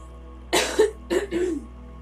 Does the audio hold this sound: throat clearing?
yes